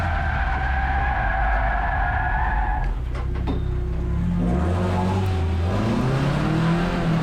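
During an 8-hour endurance race, a race car spins out with a long tire skid that fades, then its engine revs up again in rising bursts. The sound is loud and continuous, with no talk.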